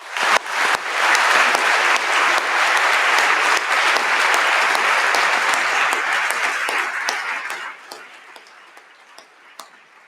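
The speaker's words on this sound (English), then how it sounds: "you deserve an extra round of applause for dealing with that" At a University of Reading winter graduation ceremony, an audience in a hall bursts into loud, sustained applause that gradually thins out to a few scattered claps.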